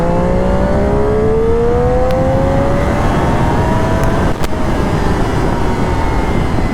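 Motorcycle engine heard while riding, a loud continuous drone with rising tones as it pulls through the gears, steady and close throughout.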